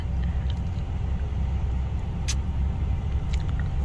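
Car rolling slowly through a Canadian zoo at about 20, a steady close low engine and road rumble inside the vehicle, with faint brief clicks over it and no talking.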